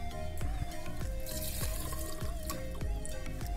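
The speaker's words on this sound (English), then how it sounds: "The moderately thirsty mode will ensure that half of the glass is filled, still saving the other half." Water from an automatic dispenser runs into a glass, filling it halfway, with a steady trickle broken by several distinct drips and splashes and a faint tonal hum underneath.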